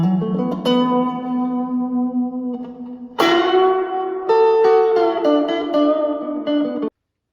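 Electric guitar chords played through a Fender Mustang Mini amp drenched in heavy reverb, each strike blooming and washing into the next before cutting off abruptly.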